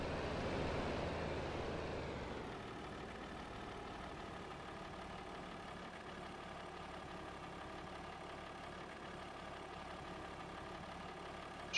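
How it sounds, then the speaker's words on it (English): A tractor engine in a farming video game set in RiverBend Springs drops from a louder rumble to a quiet, even idle within the first couple of seconds, then hums steadily on its own. "Shut off the engine."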